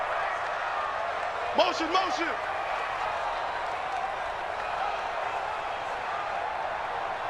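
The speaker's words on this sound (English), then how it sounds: "the crowd getting into it as we come up on a big 3rd down" A stadium crowd roars in a Patriots American football video game ahead of a big third down, a broad steady wash of cheering under a brief shouted word.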